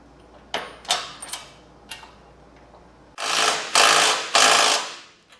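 Ratchet wrench tightening bolts on a 1986 Chevy K30 truck's front spring shackles, a few scattered clicks at first, then three long, loud, close ratcheting bursts in a row.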